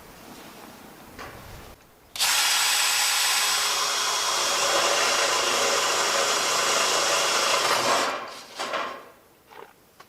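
A loud, steady power drill whir runs continuously for about six seconds while driving screws for cinder block entrance steps, then stops, followed by a few faint clicks and handling noises.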